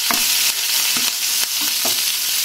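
Spices tempering in hot oil for a mutton curry: a loud, steady sizzle and fry with a few soft stirring knocks at regular intervals, close by and with no talk.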